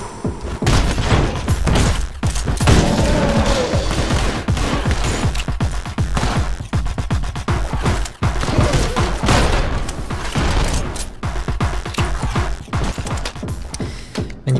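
A rapid, relentless volley of gunshots rings out in the video game Anger Foot, with sharp cracks and mechanical clatter overlapping in a loud, continuous stream with brief gaps.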